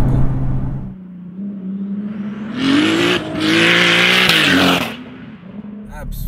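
A turbocharged 535 BHP VW Golf R32 accelerates hard. The engine note climbs in loud, rising bursts through the gears, with a turbo whoosh and a brief lift between surges, heard close up from inside the car.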